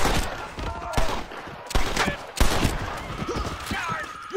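Gunfire in the video game Red Dead Redemption, a rapid fusillade of overlapping shots and thuds in quick succession, loud and close, with voices shouting in between.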